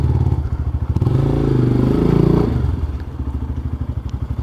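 A motorcycle engine idles with a loping, pulsing exhaust outside a motorcycle shop, swells briefly as the throttle is blipped, then drops back to a rhythmic idle, close by.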